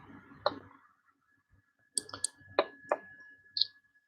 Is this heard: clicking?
yes